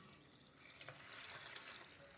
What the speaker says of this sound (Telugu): మామూలు వాటర్ అయ్యి ఇది ఇందులో పోసుకోవాలి.